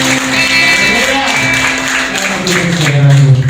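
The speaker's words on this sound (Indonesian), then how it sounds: "Berikan dulu tepuk tangan." A congregation claps at a church service. The applause is loud and continuous, with a held musical tone and voices mixed in throughout.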